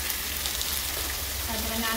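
Onion and garlic paste frying in a pan for a Sylheti dry fish and potato curry, giving a steady, close, continuous sizzle throughout.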